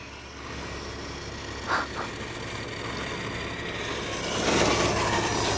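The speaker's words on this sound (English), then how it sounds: "We're gonna take the F450 for a run" A CEN Racing Ford F450 Super Duty RC truck towing a trailer loaded with an Axial Capra makes a continuous low whirring run that swells louder toward the end, with no talking.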